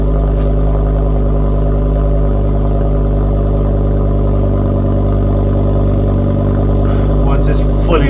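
A Ford Focus ST fitted with Lambo doors idles loudly and continuously as it warms up, a deep steady growl close by, with a brief higher rev flare near the end.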